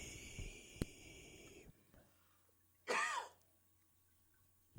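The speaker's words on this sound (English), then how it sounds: "And now there was a cough." A single short cough bursts out in a quiet room after some faint background noise, followed by near silence.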